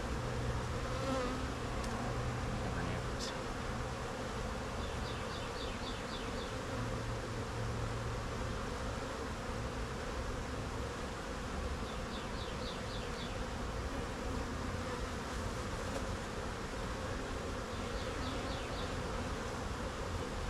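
Honeybees drone in a steady, dense buzz throughout an open-hive inspection of a split colony, close and continuous, with no talking.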